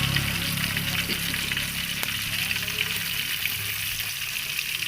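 Sliced onions frying in hot oil for a radish and rohu fish curry, a loud, steady sizzle and crackle running unbroken throughout, with no talking.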